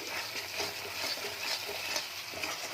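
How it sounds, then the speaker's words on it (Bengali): Spices stir-fried with potatoes and peas in a pan on high heat, a steady close sizzle broken by scraping stirs, with no voices. "এটাকে ভালো করে কষাতে থাকবো"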